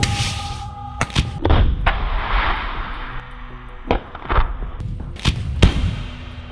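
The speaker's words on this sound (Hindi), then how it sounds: "घास में लेटकर रॉकेट लॉन्चर से इजरायली वाहन पर रॉकेट दाग देते हैं" Rocket launcher fired at an Israeli military vehicle by fighters lying in grass: several sharp, loud blasts and thuds spaced irregularly over a low rumbling background, with a longer rushing burst early on.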